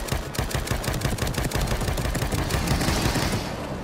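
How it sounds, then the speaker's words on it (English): Rapid machine gun fire from The Evil Within 2, a dense stream of sharp close shots rattling steadily for several seconds with no speech. "The machine gun."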